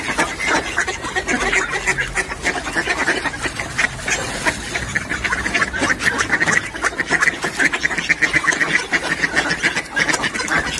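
A flock of ducks being fed bread on a winter outing keeps up steady, overlapping quacks at close range, loud and busy throughout with no voices on top.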